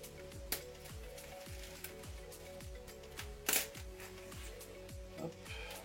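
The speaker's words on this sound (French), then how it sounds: "on va déballer la bobine" A vacuum-sealed 3D printer filament spool is unwrapped from its packaging: close, intermittent plastic crinkling and rustling, with a few sharper tearing bursts. A steady hum and repeating soft low thumps run underneath.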